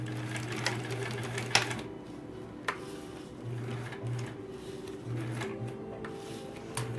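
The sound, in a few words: sewing machine stitching appliqué fabric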